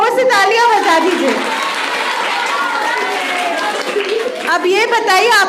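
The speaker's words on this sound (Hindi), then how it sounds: "एक बार अपने लिए जोर से तालियां बजा दीजिए।" Schoolchildren in a classroom at a government middle school clap together in a loud burst of applause, with voices and cheering mixed in, lasting several seconds.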